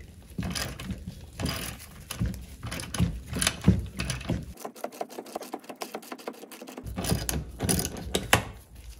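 A ratchet and socket working loose a hinge pin on a Mercruiser Alpha One Gen 1 outdrive gimbal ring, making close, rapid clicking ratchet strokes in short bursts with brief pauses.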